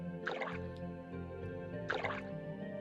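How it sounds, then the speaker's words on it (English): Two separate bursts of watery, bubbling drips play as the water tool floods terrain in RollerCoaster Tycoon. Each splashy effect is short and clear, with a steady background hum in between and no one talking. "let's get our water tool back out"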